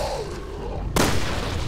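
A single sudden explosion bursts in the game Resident Evil: Revelations 2, a loud booming crack after a low rumbling lead-in, followed by sustained noisy rumble.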